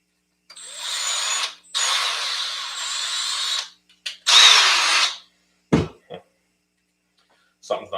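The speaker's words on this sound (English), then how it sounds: "Get a couple screws in it and test it again." A power drill drives screws into a plate in short bursts: three sustained whirring runs of one to two seconds each, then a brief spin, followed by a few short clicks and knocks, loud and close.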